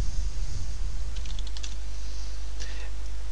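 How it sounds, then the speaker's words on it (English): A few quick keystrokes clicked on a computer keyboard while entering a boot repair command, soft and close over a steady low electrical hum, in two short bursts. "So what we need to do now is type fix boot."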